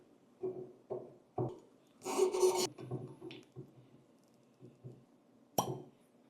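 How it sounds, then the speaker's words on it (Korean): A natural cork drawn from a 2015 Rioja Gran Reserva red wine bottle: soft scraping and rubbing of the corkscrew and foil, a gritty twisting rasp, then a sharp brief pop near the end, close and quiet. "일단 와인을 따겠습니다"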